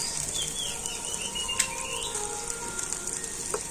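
An egg fries in hot mustard oil with a faint, steady crackling sizzle throughout, broken by a few brief pops and thin tones.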